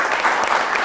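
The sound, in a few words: audience applause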